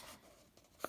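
A marker writes a short stroke on a board during a fractions lesson, a brief soft scratchy squeak that ends in a quick tap, close and faint, with no talk.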